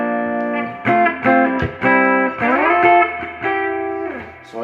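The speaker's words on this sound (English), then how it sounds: "Here actually get the nice sort of spring reverb at the back here." Distorted electric guitar chords ring out through a Fender Deluxe III amp, each strummed and held with a splashy spring-reverb tail, played several times in a row.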